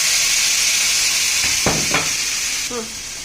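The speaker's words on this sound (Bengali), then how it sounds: "এবার মশলাটা দেখুন ভাজা হয়ে গেছে।" Ground turmeric, chili, cumin and coriander fry with a splash of water in a pan, giving a steady close hiss of sizzling with a few brief scraping stirs, and a voice speaks briefly.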